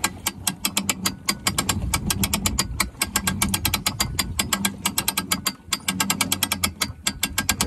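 A hand winch on a floating can dock ratchets as it is cranked to launch a Boston Whaler, giving loud, close, rapid pawl clicks in a steady rhythm with only a brief pause near the end.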